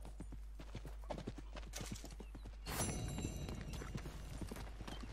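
A horse in the Red Dead Redemption 2 video game trots with a quick, even clip-clop of hooves, then a brighter snort and whinny breaks in midway over continued hoofbeats.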